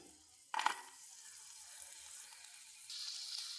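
Grated coconut drops into hot ghee in a pan with a brief loud burst, then settles into a soft, steady sizzle close by, with a hiss rising again near the end.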